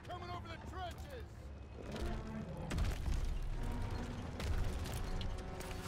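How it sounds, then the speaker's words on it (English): Tanks in Call of Duty WW2 roll over the trenches with clanking treads, engine rumble and deep booms amid battlefield chaos and constant game chatter. "Friendly tanks coming over the trenches."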